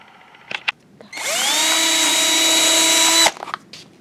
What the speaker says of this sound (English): Okay, let's finish drilling these two.